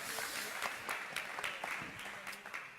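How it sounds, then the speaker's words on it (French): An audience claps at a round-table discussion on scenography, a fairly faint but continuous patter of many hands with a few sharper individual claps, and some speech mixed in. "donc vous pouvez l'applaudir, merci beaucoup"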